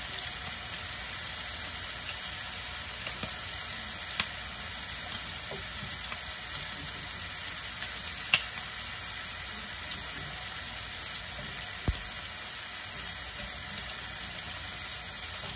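Bacon frying in a pan on the stove, a steady close hiss of sizzling grease with occasional sharp pops and crackles spread across the clip, no talking.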